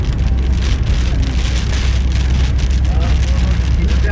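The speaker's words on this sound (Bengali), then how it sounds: "বৃষ্টি হচ্ছে পদ্মা সেতুতে।" Steady heavy rain pours down on the Padma bridge in Bangladesh, a dense continuous hiss of drops striking the surface, close and loud throughout.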